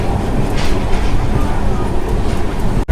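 A MEMU passenger train runs from Chittoor to Tirupati through hilly country, its steady rumble and rattling carriages loud and continuous, with a sharp clunk near the end.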